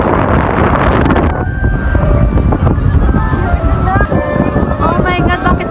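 Strong wind buffets the microphone at an outdoor amusement park, a loud continuous rumbling roar throughout, with faint voices and a high whistling tone mixed in.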